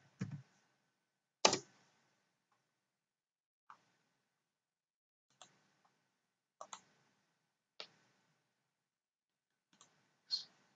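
A computer mouse clicks in PSpice circuit simulation software, with single quiet, sharp clicks spaced a second or two apart and some quick double clicks, in an otherwise silent room.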